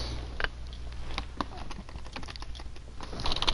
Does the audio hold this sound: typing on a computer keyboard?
yes